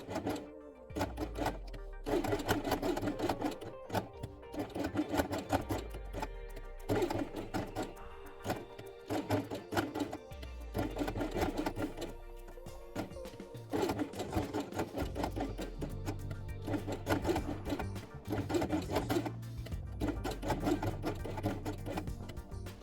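A sewing machine stitches along the edge of a fabric baby doll with white thread, running in rapid rhythmic bursts with brief pauses and mechanical clatter, close and moderately quiet.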